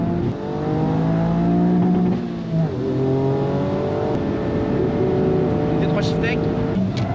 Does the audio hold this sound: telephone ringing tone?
no